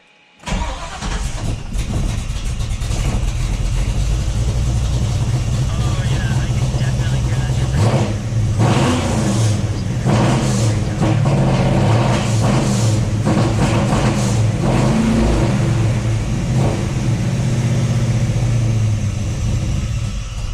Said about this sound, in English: you listen to the engine now, how much better it is